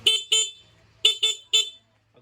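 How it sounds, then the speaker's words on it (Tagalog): Loud aftermarket dual horn on a vehicle, switched on and off alongside the stock horn, blares in five sharp toots, two short ones, a pause, then three more, loud and close with no talk. "Pagka nag-on kayo ng switch nyo, yan na yung loud horn nyo."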